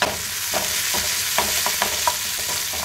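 Curry leaves dropped into hot oil for a bottle gourd curry sizzle loudly and steadily, with soft stirring taps scattered through, and no voices.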